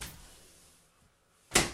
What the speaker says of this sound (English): I'm just going to close the door.